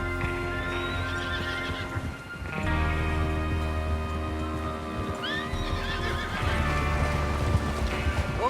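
Horses gallop with steady clip-clop hoofbeats while one neighs and whinnies, over a continuous low rumble, in the video game Red Dead Redemption II.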